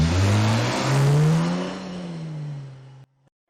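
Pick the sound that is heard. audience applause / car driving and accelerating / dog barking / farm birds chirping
car driving and accelerating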